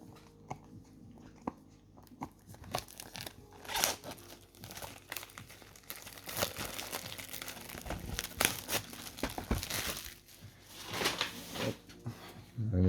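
Small scissors snipping and tearing open the crinkly plastic wrapping on a Yu-Gi-Oh Crossover Breakers display box, close up, with irregular crackling bursts and short cuts.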